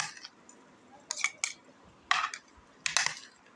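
A spoon mixes creamy fruit chaat in a bowl, making a few separate bursts of clinking and scraping against the dish, close and moderately loud, with quiet gaps between them and no talking.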